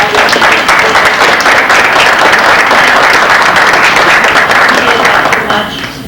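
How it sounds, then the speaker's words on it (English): Attendees at a candidate night give a loud, full round of applause, a dense, sustained wash of many hands that tapers off slightly at the end. "Let's give a round of applause"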